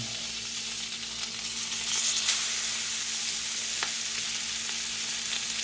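Pork chops fry in a hot cast iron pan with a loud, continuous, close sizzle and hiss that holds steady throughout, heard without talk.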